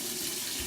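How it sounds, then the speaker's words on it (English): Warm water runs steadily from a tap for rinsing lather out of a shaving brush, a close, even rushing hiss with no talking. "here we go with our warm water rinse"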